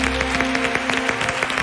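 An audience applauds a flamenco singer at an outdoor performance on the Río Grande del Guadaira, a brief dense burst of clapping, loud and close.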